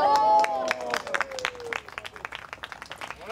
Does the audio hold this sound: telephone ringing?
no